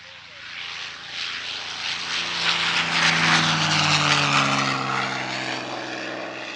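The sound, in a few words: P-51D Mustang propeller aircraft Miss Helen flying at airshow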